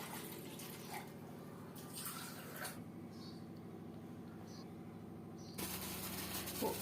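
Water pours from a tap or vessel into a pot on a stove, a quiet continuous splashing and gurgling stream during preparation of tulsi tea.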